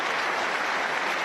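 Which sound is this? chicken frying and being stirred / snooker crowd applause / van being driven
snooker crowd applause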